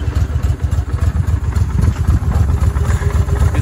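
A 2008 Honda Shadow 750 motorcycle engine with about 15,700 miles idles from a cold start without choke, a loud, steady, throbbing low rumble with a mechanical clatter throughout.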